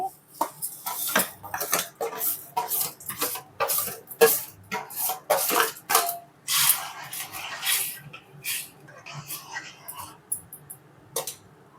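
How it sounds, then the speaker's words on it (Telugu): Vermicelli is stirred into boiling water in a kadai for semiya kesari: a spoon clinks and scrapes against the pan in a quick, irregular series of sharp, close taps, with a softer bubbling hiss between them. "వాటర్ ఇలా తెల్లుతున్నప్పుడు సేమియా వేసుకొని కలుపుకోవాలి"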